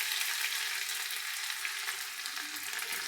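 Ginger and five-spice seeds frying in mustard oil are stirred in a pan, giving a continuous bright sizzle with light spatula movements throughout and no voice.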